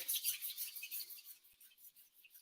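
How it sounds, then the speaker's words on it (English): Palms rub together in a quiet meditation session, making a soft, rhythmic high swishing friction that fades over about two seconds with no talk. "Inhale, rubbing the palms together."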